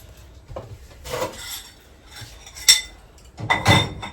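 Cutlery and dishes clink and scrape as a home kitchen is tidied, with several sharper clatters standing out from softer rubbing and handling noises, fairly close and without talk.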